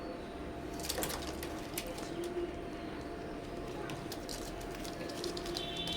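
Imported Teddy breeder pigeons coo softly and steadily against a constant hum of background noise, with occasional clicks and rustles from the loft.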